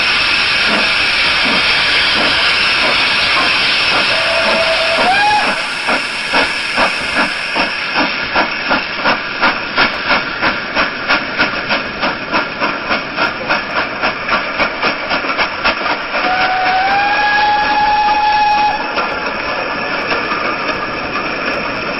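Steam locomotive puffing away from a station platform, with a loud hiss of escaping steam followed by a steady, quickening run of rhythmic chuffs and a brief whistle-like tone.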